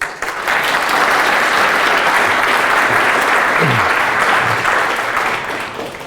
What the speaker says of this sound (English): can I please get a warm applause for John DeGose?